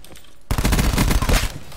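Rapid burst-weapon gunfire in Call of Duty Black Ops 4, loud and close, kicking in after a short quiet lead-in and running as a dense rattle of repeated three-round bursts to the end.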